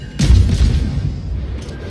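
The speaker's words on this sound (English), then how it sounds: "There's a Des Moines, he took a shot at me." Ship gunfire from a Des Moines cruiser in a naval battle game, one sudden loud boom with a low rumbling tail that fades over about a second, with a faint second thud near the end.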